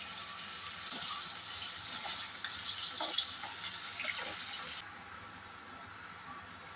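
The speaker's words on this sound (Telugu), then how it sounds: "నూనె కాగిన తర్వాత అందులోకి ఉల్లగడ్డలు వేసి కొద్దిగా ఫ్రై చేసుకోవాలి" Onions hissing as they fry in hot oil in a pan, a steady bright sizzle with a few soft clinks and stirs; the sizzle drops abruptly partway through and a quieter hiss carries on to the end.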